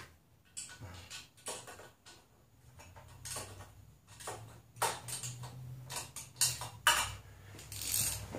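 A socket ratchet snugging up an exhaust bolt while a Yoshimura R-77 exhaust is fitted to a 2015 Yamaha YZF-R3, making a series of quick, close clicking bursts with short pauses between strokes.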